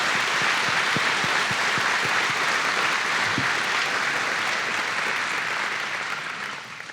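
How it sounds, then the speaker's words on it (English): Crowd applause at an agency honor awards ceremony, a thick, even roar of clapping that holds steady, then fades away in the final second, with no voices. "Let's give yourselves another round of applause."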